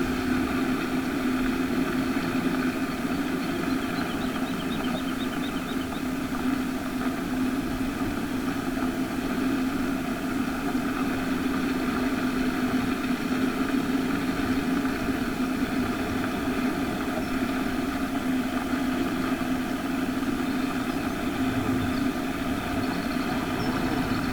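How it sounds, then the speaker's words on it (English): A tractor engine idles steadily in a field, a continuous close hum with a constant low drone and no pauses throughout. "Well, I may have to widen this tractor out just a little bit."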